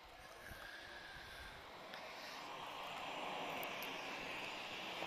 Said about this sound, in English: Okay, Emirates is taxiing.